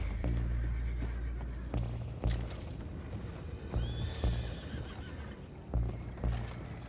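Horses in the video game Red Dead Redemption 2 whinny and neigh repeatedly while hooves clop and thud unevenly, moderately close, amid scattered impact noises with no talk.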